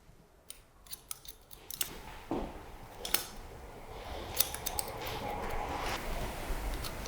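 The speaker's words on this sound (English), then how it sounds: "That's the hair that I'm cutting through." Scissors snip through long hair during a men's haircut, a series of crisp close cuts with short pauses between them over faint room background.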